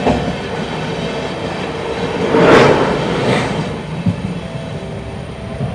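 An Amrit Bharat Express passenger train runs between NJP and Kolkata, heard from on board as a steady loud rumble with rattling carriages, a swelling rush of noise midway and a sharp clack of wheels near the end.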